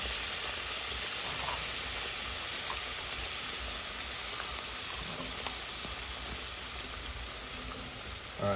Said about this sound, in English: we're gonna let that fry for about 3 minutes